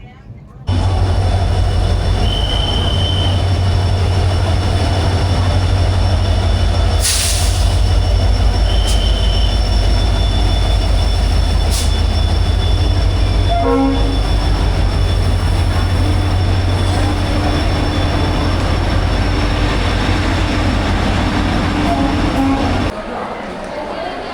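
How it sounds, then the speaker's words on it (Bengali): A train rumbles steadily through Pune railway station, with metallic wheel squeals and a few sharp high clanks, voices faintly audible beneath the loud, continuous noise. "আগে তোমরা ট্রেনের ডিপারেচার দেখে নাও, অ্যারাইভেল দেখে নাও, পুনে স্টেশনের অ্যাটমসফিয়ার দেখে নাও"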